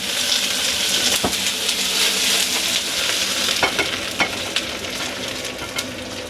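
Fresh corn kernels pan-fry with a close, steady sizzle, broken by scraping stirs and a few sharp clatters of a utensil against the pan; no talking.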